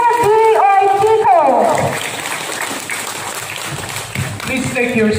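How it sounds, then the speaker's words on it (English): A school crowd gives a visiting regional education director loud, sustained applause. It swells after a voice finishes speaking, fills several seconds, then fades as talking resumes. "let us give a thundering applause to our regional director, Ramir, Uytico"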